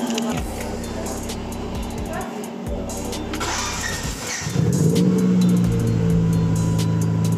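A car engine is started with the key: a whirring starter crank gives way to a catch and a louder, steady idle rumble, heard close up.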